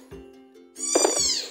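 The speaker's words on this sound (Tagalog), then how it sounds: "So, yung mga pusa na nandirito" A newborn kitten gives a few short, rising meows in close succession, near and fairly loud, with no talk over it.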